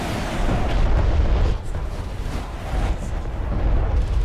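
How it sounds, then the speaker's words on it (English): A missile barrage in a video game hits as a continuous rumbling wall of explosions, loud and heavy, with a short dip midway before the booming swells again. "First, he's gonna use his missile barrage."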